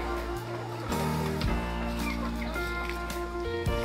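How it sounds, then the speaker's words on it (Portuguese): A confined chicken clucks steadily on a rural Brazilian smallholding, close and fairly loud over a constant low background hum. "Tem galinha presa ali, Madalena."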